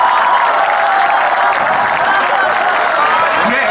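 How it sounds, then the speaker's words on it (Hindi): An audience at a Hindi comic poetry gathering (kavi sammelan) claps continuously, a dense, steady wash of applause from a large crowd. "ये तालियां बजाने वाली बात नहीं थी"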